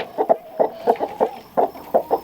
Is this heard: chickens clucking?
yes